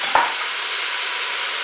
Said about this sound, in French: Je vais ajouter mes courgettes, mes morceaux de tomates,